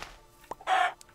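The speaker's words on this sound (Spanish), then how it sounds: "¡Oh, un pollito!" A chicken in the video game Minecraft gives a short, bright cluck. A few soft clicks come just before it, and it plays alone in a quiet game scene.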